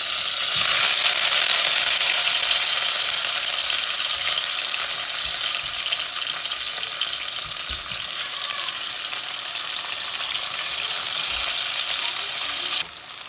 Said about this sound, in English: put in my onions, tomato, and thyme, saute that for a few